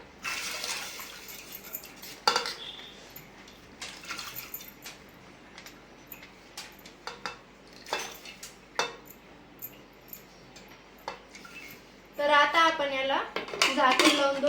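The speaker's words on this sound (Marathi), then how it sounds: "मी इथे एक वाटी तूर डाळ स्वच्छ धुवून घेतलेली आहे ती टाकूया" Washed toor dal goes into a pot with oil and turmeric, bringing light clinks and rattles of metal utensils and soft watery sounds, with a voice speaking near the end.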